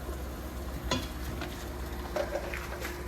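Saba mackerel being stir-fried in a pan for a Thai-Lao spicy fish dish, a steady close sizzle with scraping stirs and a few sharp utensil clinks against the pan, no voices.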